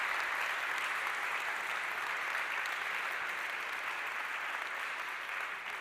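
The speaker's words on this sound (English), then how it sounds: "let's give you the applause of the Frankfurt public audience" Steady, even applause from a large public audience in Frankfurt fills the whole stretch, a dense continuous wash of many hands with no voices over it, tapering slightly at the end.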